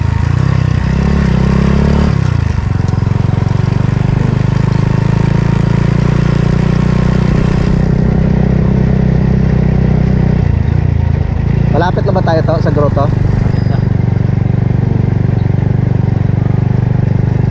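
A motorcycle engine runs steadily and loudly close by during a ride toward a grotto in a barangay, with someone talking over the engine noise throughout.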